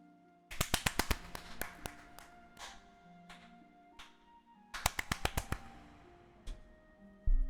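Bursts of quick, sharp claps in the video game Genshin Impact come in two clusters, with scattered single claps between them and faint background music.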